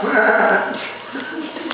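A voice mimics a sheep's bleat with a short, wavering baa, loud and close, then trails off into quieter murmuring.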